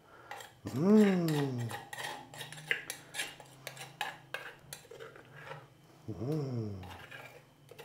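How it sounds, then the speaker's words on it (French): Metal utensils scraping and clinking against a pot while ingredients for a green sauce are poured in and stirred, an irregular clatter close by, with a person humming over it. "On va tout verser tout ça dans la casserole."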